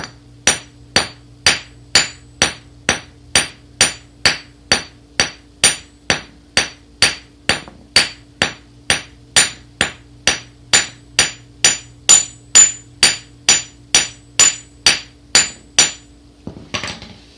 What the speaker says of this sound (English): as you're hammering, you want to keep your twisted Kanthal straight